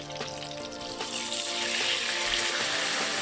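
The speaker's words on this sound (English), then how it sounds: "I'm going to pour it on top of it." White wine poured over seafood in a pan, producing a close, steady hiss and watery sizzle that swells slightly as the pour continues, with a faint underlying hum.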